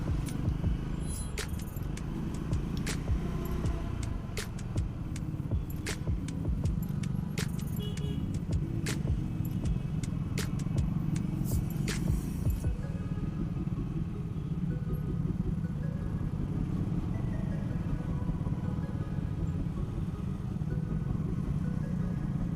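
Steady Sunday-morning road traffic roars around a rider on a Triumph Scrambler 400X, a continuous engine and wind rumble with a rattling jangle over the first half.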